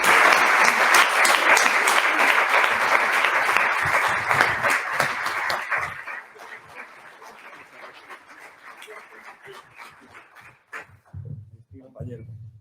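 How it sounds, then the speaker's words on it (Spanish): Loud crowd applause at a writers' association gala as an author climbs the stairs to the stage, dense clapping for about six seconds, then thinning to scattered claps with a voice near the end. "Un aplauso muy fuerte, que suba esta escala que tantas veces ha subido."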